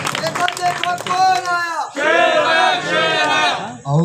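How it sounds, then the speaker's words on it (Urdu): A crowd at a neighborhood corner meeting in Mushrraf Colony cheers and whoops loudly, with voices shouting together in bursts over about four seconds, a brief pause in the middle before the cheering swells again. "ارسلان خان سواتی کے لیے تالیاں کہ وہ آئے اور اپنے خیالات کریں"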